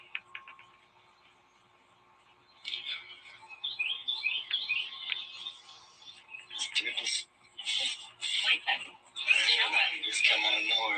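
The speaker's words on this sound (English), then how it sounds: "I was just talking about so many birds, like that's nuts. You hear that?" Outdoor birds chirping in quick bright bursts that start after a quiet opening, mixed with a person talking nearby.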